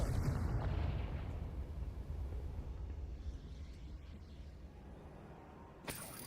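The Confringo spell explodes in Hogwarts Legacy with a deep rumbling blast that fades over several seconds, followed by a short sharp crack near the end.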